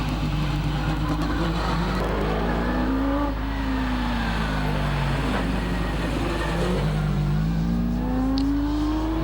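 A Ford Mustang Fastback roars up a hillclimb course, its engine note rising and falling through gear changes. It sounds loud, close and continuous, with no talk over it.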